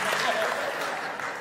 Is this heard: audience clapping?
yes